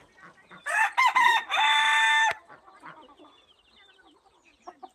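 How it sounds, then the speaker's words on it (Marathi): Native village chickens and Chinese-breed hens cluck in short bursts, then a rooster lets out a loud sustained crow, followed by quieter scattered clucks and rustling inside a bamboo coop. "बघा या चिनी चिनी कोंबड्या पण खूप आवाज करतात"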